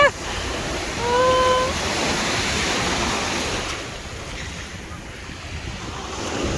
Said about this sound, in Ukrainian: Дивіться, яка хвиля гарна йде зараз на мене.